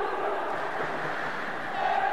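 Stadium crowd at the Olympic stadium in El Menzah cheering goalkeeper Jamel Tayech of Club Africain during a 1990 penalty shootout, a dense roar of many voices rising and falling in the distance without a break.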